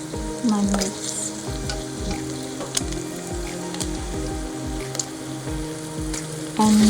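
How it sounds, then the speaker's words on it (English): Sliced garlic sautés in a pan with a steady, close sizzle, punctuated by stirring and scraping of a utensil, continuous throughout with no speech. "just saute all this until it's fragrant"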